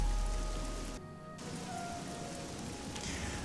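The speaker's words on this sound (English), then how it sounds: "And it's still raining!" Steady rainfall in the video game Oblivion, a constant close hiss of falling rain that dips briefly before continuing unbroken, with no voices.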